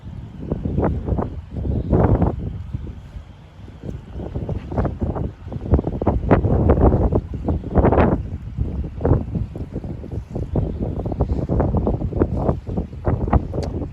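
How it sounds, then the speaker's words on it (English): Wind gusting during night fishing on a foggy cold coast, heavy buffeting rumbles and roaring bursts hitting the microphone continuously, loud and close, with no speech. "Just the wind, I think, picking it up."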